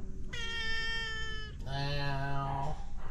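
Two drawn-out cat meows, one after another, close and clear, the second lower and wavering, with faint room noise underneath.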